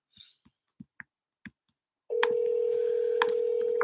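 A phone line on an outgoing real estate cold call gives a few keypad clicks, then a steady loud tone that holds for about two seconds. No voices can be heard.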